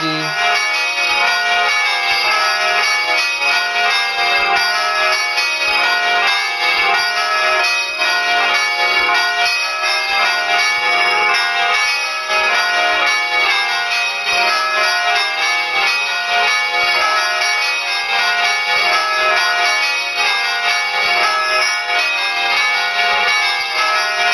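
A church bell sound played in GarageBand, struck on one side only, gives a loud, dense and sustained metallic ringing that keeps a steady level from start to end.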